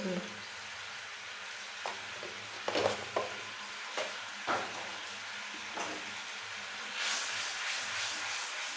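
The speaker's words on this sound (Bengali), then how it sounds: "এবার মশলাটা কষে নিই, কষে নিয়ে তারপরে আলু দিয়ে কষবো।" A spice paste for a Bengali koraishuti curry sautés in oil in a pan before potatoes go in. A faint, steady sizzle runs under irregular scraping and stirring strokes, with a few sharper knocks of the spoon against the pan.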